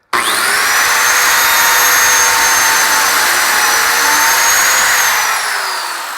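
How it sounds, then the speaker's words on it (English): A biscuit joiner spins up with a loud, high whine and cuts a spline slot into a wooden workpiece, holding steady for about five seconds before the motor winds down. "I'm going to go ahead and make the first cut."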